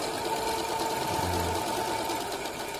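A portable button-attaching machine runs with a steady, close mechanical whir, its drive bogging briefly into a lower hum as the lever is pushed forward with the gas pedal pressed.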